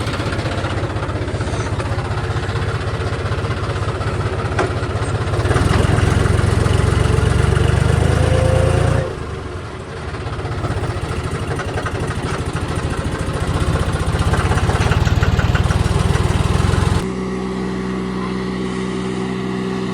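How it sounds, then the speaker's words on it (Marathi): A John Deere tractor pulling a trailer loaded with about 24–25 tonnes runs with a loud, continuous low engine drone that swells and eases as the load changes, steady throughout with no talking. "या ट्रॅक्टरमध्ये 24-25 टन लोड आहे आपल्या जॉन मध्ये. बघू इथून चढतं का."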